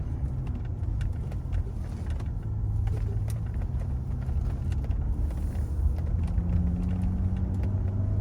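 A 1988 Mercedes-Benz 300SE drives along a city avenue in Vancouver after heavy rain, heard from inside as a steady low engine and road rumble with a faint mechanical hum, continuous and unbroken, with no talk.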